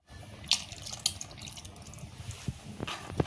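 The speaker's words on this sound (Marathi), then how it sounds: "हे जे चिंचेचं पाणी करून घेतलंय ते घालायचं ह्या" Tamarind water poured into a pot of mutton dalcha with bottle gourd, a steady close splashing stream with small drips and clinks, soft and continuous.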